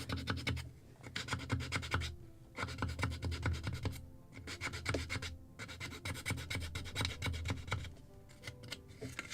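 Balsa wood planking on a Midwest Muscongus Bay Lobster Smack model boat kit being filed, close rhythmic rasping strokes in bursts with short pauses between.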